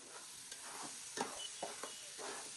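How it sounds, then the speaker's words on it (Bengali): Rice frying in the pot of a rice cooker for tehari, a faint steady sizzle broken by a few soft scraping stirs, heard close and alone. "চালটা ভেজে নিচ্ছে।"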